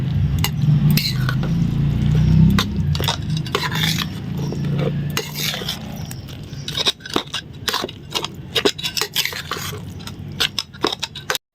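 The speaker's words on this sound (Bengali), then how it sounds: "এবার আমি এগুলো ভালো করে মাখিয়ে নিই" Fish omelette ingredients being mixed by hand in a bowl, with soft squelching and irregular clinks against the bowl, dense early on and then thinning into scattered sharper taps. No one speaks.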